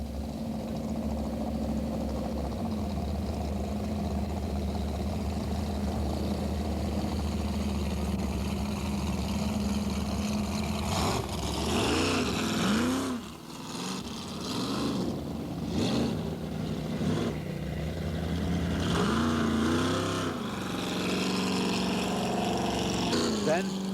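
Racing jetboat number 200 launching at the 1984 U.S. Championship Jetboat Race on the Payette River in Idaho, with a steady engine drone swelling into rising, wavering whines as the boat pulls away, while an announcer speaks throughout.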